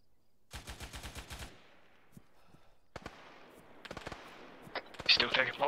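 Gunfire in ArmA 3 crackles through a fast automatic burst, then scattered single shots and short volleys follow at mid distance, building toward denser, louder firing at the end.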